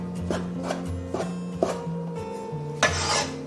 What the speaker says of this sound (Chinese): 再准备几个提前泡好的香菇，